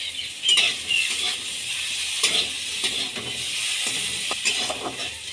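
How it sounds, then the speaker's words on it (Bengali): Potatoes fry in a pan with a constant hissing sizzle, close by, punctuated by occasional soft scrapes and taps of stirring; no one speaks. "আলুগুলো ভাজা হয়ে গেছে"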